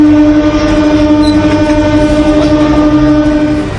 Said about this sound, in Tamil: புதிய ரயில்வே பாலத்தில் 75 கிலோமீட்டர் வேகத்தில் ரயில்கள் செல்ல அனுமதிக்கப்பட்டுள்ளன.